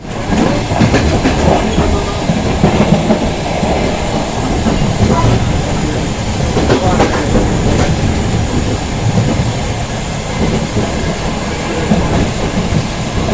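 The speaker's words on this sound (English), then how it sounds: "the train reached the fastest speed on this journey" A train running at about 38 miles per hour rumbles steadily along the tracks, loud and close, with rhythmic clattering of wheels over rail joints throughout.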